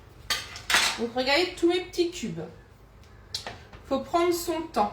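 A spoon stirs diced sweet potato cubes in a pan, with scraping and clinking of metal on cookware in short bursts, under a person talking throughout.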